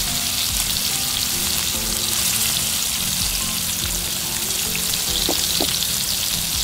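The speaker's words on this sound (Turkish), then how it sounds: "yağ sesi geliyor ya, müthiş," Fish frying in oil in a pan set over glowing embers outdoors, a steady close hiss and crackle of sizzling with faint spatters, no voices.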